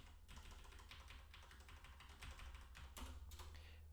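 Fast keystrokes tap on a computer keyboard in a quick, uneven run, faint and close over a low steady hum, with no voices.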